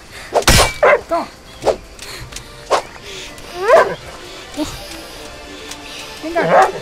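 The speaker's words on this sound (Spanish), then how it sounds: "maldito sea, que me ha visto el perro." In the video game Die Young, a dog gives several sharp barks and yips spread irregularly over a few seconds, heard under someone talking.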